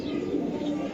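Racing pigeons in a loft give soft, low cooing under a faint background murmur, a brief and fairly quiet moment.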